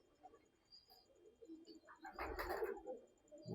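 A Taddy breeder pigeon coos softly at a show, a faint low call heard close among quiet background rustling, growing busier toward the end.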